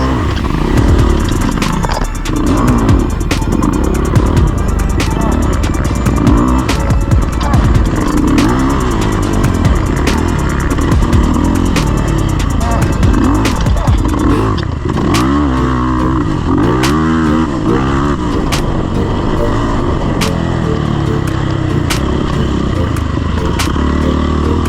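Yamaha YZF 450R race motorcycle ridden hard during a race with no brakes, loud continuous engine revving that rises and falls with gear changes, plus clattering and other bikes nearby, no voices.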